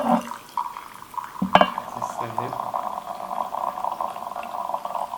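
Hot water streams over a tea lid to rinse it, a steady pouring and splashing hiss that runs throughout, with a brief clink partway through and a voice talking over the flow.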